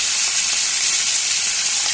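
Sea fish frying in hot oil, a steady dense sizzle that holds evenly loud from start to finish with no voices over it.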